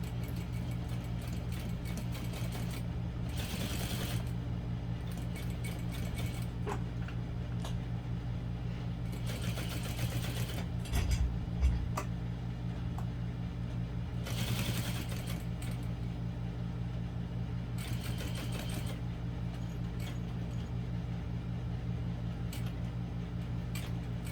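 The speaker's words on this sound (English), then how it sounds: "I'm just going to sew these in place, same way we did with the side panels" A sewing machine stitches panels on a Marcel barrel bag near its hardware, in several short runs of a few seconds each over a steady low motor hum.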